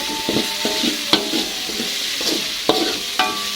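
A spoon stirs and scrapes balado spice paste as it sautés in a pan, with a few sharp clinks against the metal over a soft, continuous sizzle, close and fairly loud, no talking.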